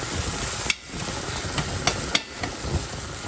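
Metal spatula chopping vegan meat on a hot griddle, a few sharp irregular clanks over a constant loud sizzle.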